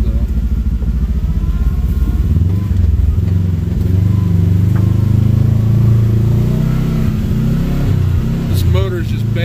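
An off-road vehicle's engine climbing a steep hill, a loud, close, sustained growl with rising revs and some rattling clatter, while people talk over it.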